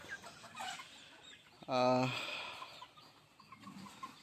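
A Sonali chicken gives one loud, close cluck-squawk over faint background murmur and softer clucking, at a poultry sale where birds are being weighed and bagged.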